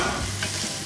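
Gyros meat sizzles and fries in a hot pan with a steady, close crackle and some stirring, and no voices.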